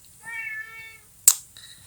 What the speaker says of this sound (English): there's still a noisy cat here